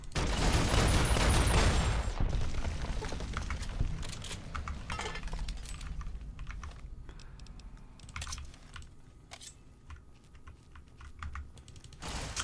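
Turrets fire rapid bursts of gunfire in the video game Fallout: New Vegas, with a dense loud volley at first, then scattered sharp shots and clattering impacts that thin out over several seconds.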